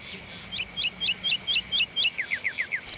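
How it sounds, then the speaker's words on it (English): A small songbird, presented as a nightingale, sings alone in a steady series of about ten short, high, rapid whistled notes, the later ones quicker and sliding downward, against faint background hiss. "N. Nightingale."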